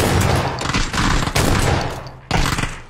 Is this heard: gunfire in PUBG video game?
yes